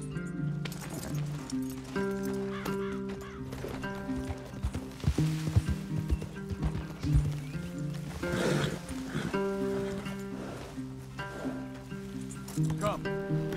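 Horses in the Red Dead Redemption 2 video game move with steady clip-clop hooves under a music score, with game voices talking over them.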